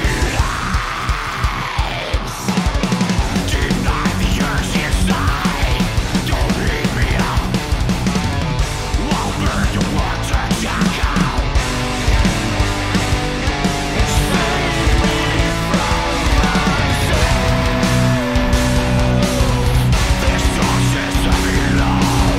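Full band mix with distorted guitars run through amp simulators and Bogren Digital IRDX core impulse-response processing, dense and loud throughout after a short intro, carrying heavy chugging rhythm with a yelled vocal over it.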